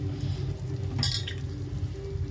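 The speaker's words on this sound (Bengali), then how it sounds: "এবার আমি চিকেনটা দিয়ে এবার এটাকে ভালো করে কষাবো।" Lemon-and-salt marinated chicken frying with masala in oil gives a low, steady sizzle, with one brief metallic clink of a utensil against the pan partway through.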